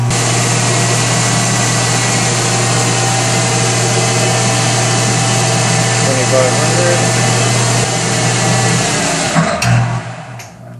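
A 1965 Monarch 10EE lathe under electrical repair runs with a loud, steady motor drone and high electrical whine that holds for about nine seconds, then shifts and wavers toward the end.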